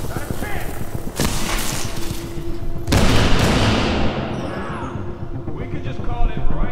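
Video game gunfire, with loud sharp shots at about 1.2 and 2.9 seconds and a dense burst of firing and booms that trails off, heard under ongoing player chatter.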